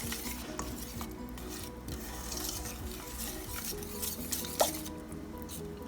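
A whisk beats ingredients for homemade mac and cheese in a pot, a soft continuous scraping and clinking with one sharper tap midway, fairly quiet and without talk.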